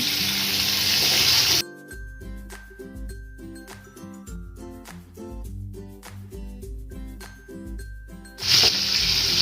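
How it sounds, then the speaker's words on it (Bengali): Loud hissing sizzle of shrimp frying in a hot wok, heard at the start and end, with tonal music filling the middle. "এক এক করে সবগুলি মাছ আমি এখানে কড়াইয়ের মধ্যে দিয়ে দিয়েছি"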